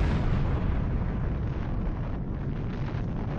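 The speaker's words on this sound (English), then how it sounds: "MOAB, short for Massive Ordnance Airburst, quickly became known as the mother of all bombs." A MOAB (Massive Ordnance Air Blast) bomb detonates in a sustained, loud, rumbling roar of deep blast noise that stays dense throughout, with no voices.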